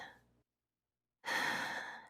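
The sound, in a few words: deep exhaling breath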